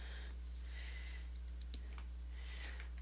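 Quick, light clicks of typing on a computer keyboard in a quiet room, with one sharper tap standing out among the faint keystrokes over a low electrical hum.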